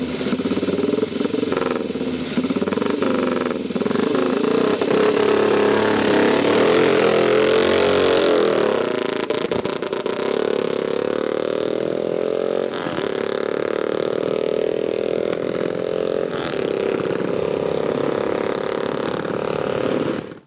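A Velocette Mark 8 motorcycle engine revs loudly and close through an open megaphone exhaust, a raw, throbbing bark that swells with the throttle and holds as a sustained, rumbling roar for about twenty seconds.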